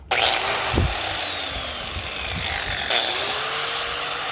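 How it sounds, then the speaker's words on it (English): A die grinder whines steadily as it rounds the corners of a plexiglass window for a Leer truck cap, its pitch sliding up and down as the load changes, close and continuous with a few brief bumps. "die grinder, whatever you want to call it. I use that to round the corners"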